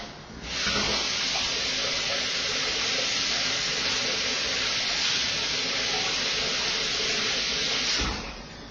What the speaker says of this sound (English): I'm just going to run under cold water right now